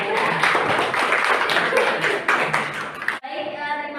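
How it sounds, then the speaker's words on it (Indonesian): Classroom applause for a student presenter during a group-work lesson: dense, steady clapping from a room of students that cuts off abruptly and gives way to a sustained tone. "Berikan tepuk tangan dulu untuk Siti Hovifa"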